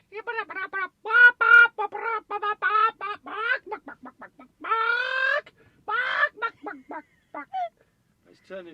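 A person imitates a dolphin call, producing a series of close, loud squawking and clucking bursts that come out sounding like a chicken, in quick irregular runs with brief pauses.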